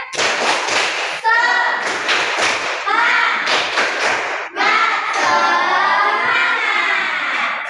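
Primary school pupils in an Indonesian classroom perform a patterned spirit clap, loud rhythmic bursts of claps and slaps in several groups, close up, with children's voices chanting along between the bursts.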